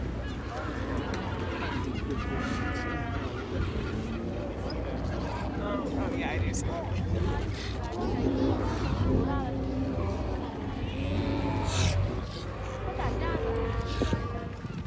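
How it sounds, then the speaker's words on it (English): Loud barking and honking roars from a crowd of male sea lions fighting over territory in the breeding season on the coast of Chile, overlapping continuously with constant surf or wind noise underneath. "The sounds you hear are the male sea lions who fight during the breeding season for territory."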